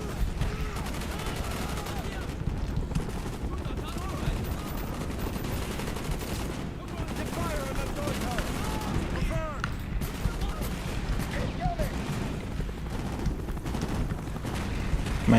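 Continuous game battle din in Call of Duty: Black Ops, with dense gunfire and rapid bursts of fire throughout, loud and steady, with voices talking underneath.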